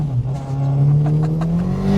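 A 500 horsepower rear-wheel-drive Ford Sierra drives in wet, poor weather, its engine droning steadily and loud close by, with rising tones as it pulls.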